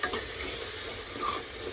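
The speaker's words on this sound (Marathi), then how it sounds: "सगळं व्यवस्थित मिक्स करून घ्यायचं आहे।" Spiced veg pulao mixture stirred in a pan, making a steady close sizzle with soft scraping that runs without a break and without voices.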